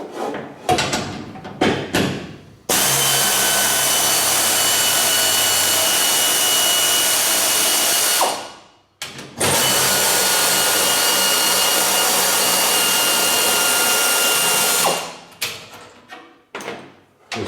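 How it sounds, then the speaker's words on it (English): A small pneumatic air wrench on a 1/2-inch drive stepped down to 1/4 inch, set to low, removes bolts from the gearbox tunnel of a 1958 Jaguar XK 150. Two long, steady, loud whirring runs of about six seconds each follow a few short clicks and bursts. "I've got out my small air wrench"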